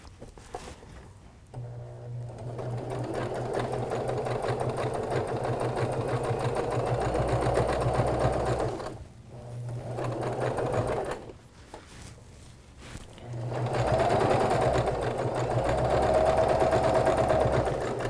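Sewing machine stitching fabric for a pillow a quarter inch from the edge, running loud and steady in two long bursts separated by a short pause, with no talk.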